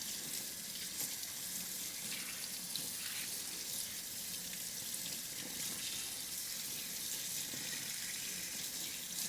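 Steady running tap water pours into a sink during cleaning of a Rolex watch, a constant, fairly quiet hiss with no talking.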